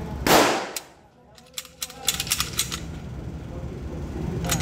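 A C9 9mm pistol loaded with 124-grain Magtech ammunition fires one sharp, close report near the start, followed by faint metallic clinks and handling noises.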